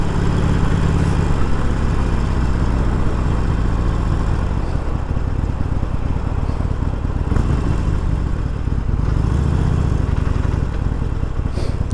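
A 2019 Harley-Davidson Iron 1200 Sportster runs steadily up close, its loud, rumbling V-twin throb continuous throughout with slight swells in revs and no talk.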